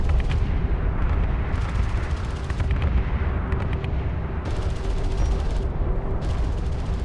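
Artillery fire support in the sci-fi strategy game Homeworld: Deserts of Kharak, a dense rumble of repeated distant blasts and gunfire rolling continuously under a steady low roar, with no talking.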